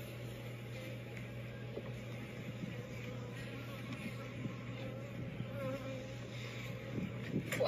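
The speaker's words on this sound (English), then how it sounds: "Whoa, that's a lot of bees." A dense, continuous buzzing of many angry honey bees during a hive inspection fills the air, a steady drone close by with faint rustling, growing slightly louder toward the end.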